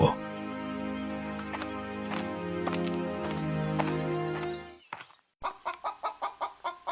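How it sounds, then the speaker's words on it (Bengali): Chickens cluck and chatter nearby amid general noise, then a quick series of rhythmic clucks after a brief pause. "বাবা দেখো, কত ছোট্ট হাঁস মুরগির বাচ্চা"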